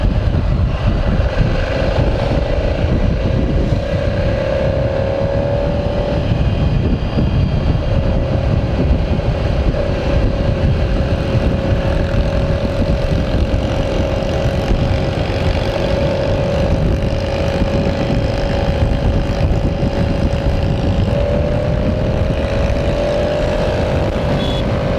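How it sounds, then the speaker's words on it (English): Loud, steady wind roar buffets a rider at high speed on a 2017 Ducati Scrambler Cafe Racer motorcycle, a dense broadband rush with a faint engine drone beneath it, constant and close for the whole stretch, with no talking. "The wind is deafening."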